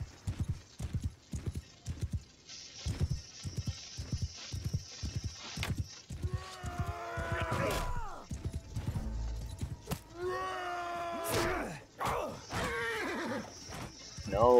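Horses in a medieval battle in the Bannerlord video game trot with a steady clip-clop, then several loud, shrill neighs and whinnies break out over the hoofbeats.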